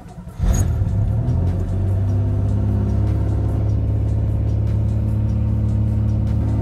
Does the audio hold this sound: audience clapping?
no